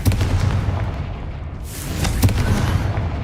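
A Confringo fire spell explodes in the video game Hogwarts Legacy on PS5 Pro. Two sharp, loud blasts land about half a second apart over a dense, rumbling battle din.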